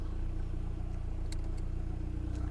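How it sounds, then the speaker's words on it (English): A VW Golf 2 GL sits running nearby, its engine giving a steady low throb with mild revving, heard alone without talk. "sit in the car and rev it a little bit"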